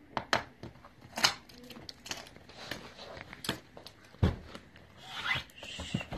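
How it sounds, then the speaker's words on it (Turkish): Packing tape peeled off a cardboard toy house box, heard as a series of sharp, close ripping and crackling pulls with short pauses between them, with a voice talking faintly underneath. "Şimdi buradan atacağız bantı."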